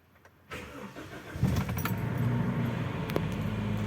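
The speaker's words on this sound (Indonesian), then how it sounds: "saat pertama kali start seperti ini, mobil jangan langsung dipakai ya" A manual car with the clutch pressed is started: a brief key and starter rattle, then the engine catches and settles into a steady, close idle with no talk.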